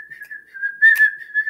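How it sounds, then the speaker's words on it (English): A person whistles a short, wavering tune, their little theme song, steady and close, in a quiet room. "It's like I can't even hardly whistle."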